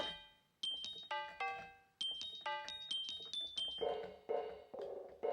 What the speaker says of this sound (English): And this is the tubular bells.